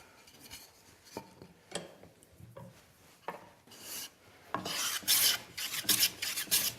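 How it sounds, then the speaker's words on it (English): A hand tool takes very thin shavings off the inside faces of a wooden piece, in short, quiet rasping strokes that grow more frequent and louder toward the end. "I'm just whisking off a very thin shaving, maybe 1/1000 of an inch"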